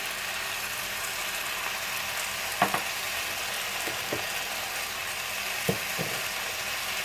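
A spoon stirs pumpkin soup with chili, black pepper and spices in a pot, giving a steady soft scraping and sizzling texture broken by a few sharp clinks of utensil against the pot.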